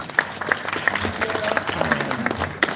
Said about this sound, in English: Let's give a round of applause to Daniel Villarreal.